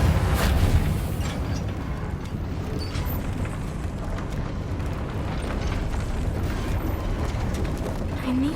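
A Reparo spell mends a broken lift mechanism in the Hogwarts Legacy video game, producing a sustained, loud rumbling roar with grinding, clattering mechanical textures and a brief swell near the start.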